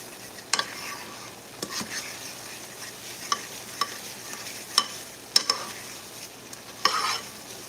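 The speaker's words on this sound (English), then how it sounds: "So nothing exciting about scrambled egg. Just scramble it up." Egg scrambled in a frying pan, cooked well done for a chicken teriyaki and fried rice meal, gives a soft continuous sizzle broken by sharp spatula scrapes and taps on the pan at irregular intervals, close and fairly quiet.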